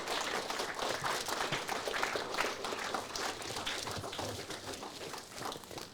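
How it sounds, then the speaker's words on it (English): An audience applauds for Greg Connor at a stakeholder meeting, a dense, even wash of many hands clapping that is sustained and fairly faint, as if heard from across the room. "Please clap your hands for Greg Connor"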